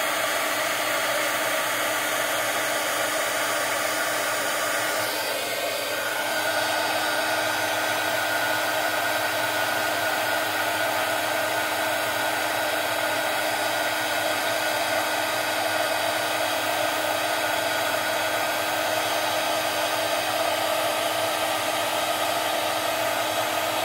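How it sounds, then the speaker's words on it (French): Heat gun blowing steadily throughout a stamping craft session, a loud continuous airy whoosh with a slight shift in tone a few seconds in, no talking. "je reprends de nouveau donc mon heat gun pour pouvoir faire"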